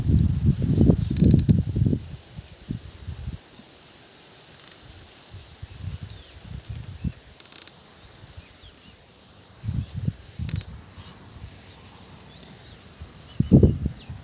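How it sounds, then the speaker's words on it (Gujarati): Gusty outdoor wind on a cloudy evening at a farm buffets the microphone in low rumbling bursts, strongest at the start and returning in short gusts, with no talking. "પવન એવો છે અત્યારે."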